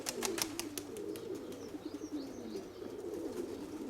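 A pet dove cooing nearby, soft repeated coos over a low murmur, with a few sharp tapping clicks at the start.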